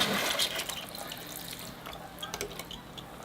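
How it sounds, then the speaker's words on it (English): Water trickles and drips softly as it is poured over the soil of a larch forest bonsai planting, settling it in; a faint, wet patter that thins out over a few seconds. "I think I'm going to try washing that now with the water, kind of settling it all in."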